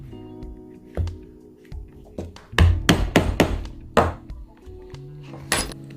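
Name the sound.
punching stitching holes in leather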